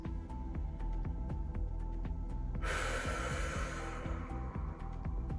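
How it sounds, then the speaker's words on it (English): A long, audible exhale during a beginner somatic movement practice, rising as a breathy rush midway through over a soft, steady rhythmic pulsing in the background. "Just letting out any sound on the exhales."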